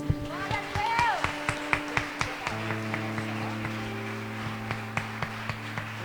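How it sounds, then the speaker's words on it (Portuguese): Clapping from a church congregation, rhythmic sharp hand claps sounding over a sustained organ or keyboard chord, with voices present in the hall. "Uma palmas para Jesus."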